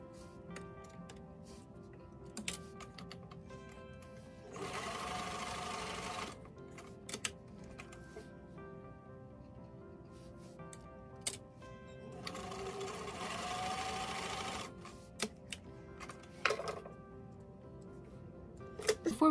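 A sewing machine stitches the shoulder seam of a doll top, running in two steady bursts of a few seconds each, separated by quiet pauses with light clicks and handling of fabric.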